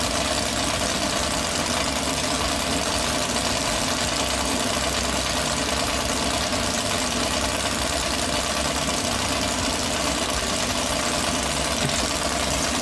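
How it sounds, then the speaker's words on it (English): A loud, continuous racing powerboat engine roar with steady mechanical vibration, sustained without pause and heard up close, from a boat small for its large engine. "it's not that big a boat for the size of the engine in it"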